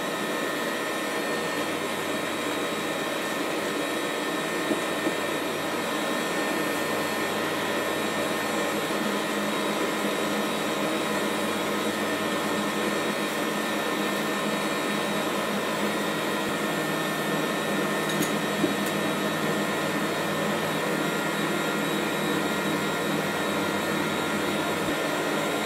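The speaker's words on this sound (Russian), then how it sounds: "Продолжаю взбивать на той же 4 скорости и добавляю сахар по 1 столовой" Electric mixer running at speed 4, whipping egg whites while sugar is added a spoonful at a time for meringue, a steady high-pitched motor whine and whir held close and constant throughout.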